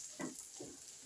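Cinnamon, chilli, coconut, roasted gram and fennel roast in a pan, producing a faint, soft sizzle with two gentle stirring swishes.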